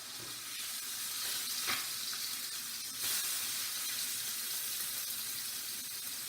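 A fish fillet frying in a pan gives a steady, loud sizzle that runs unbroken throughout, with a couple of brief crackling bursts and no talking.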